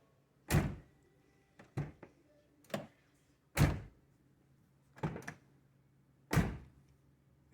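A Saab car door is shut several times in a row, each closing a sharp, solid thunk with a short ring, spaced roughly a second or two apart and heard close up.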